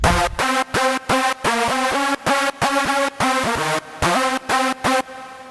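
An EDM drop synthesizer lead made in Sylenth1 plays a rhythmic run of short, punchy notes with rich harmonics, stepping through a repeating melodic pattern, loud and alone.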